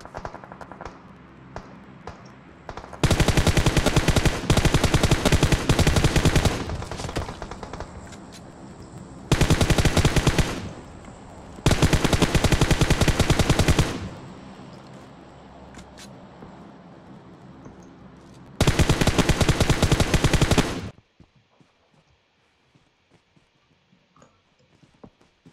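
Automatic gunfire in the mobile battle royale game PUBG Mobile, loud rapid bursts in four separate sprays of a few seconds each, with quieter game ambience between them and near silence at the end.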